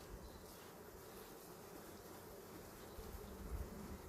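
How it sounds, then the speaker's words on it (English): A heavy honey frame crawls with honey bees, their continuous close buzzing drone holding steady and swelling slightly louder toward the end. "I'm going to try to get all these bees off of here"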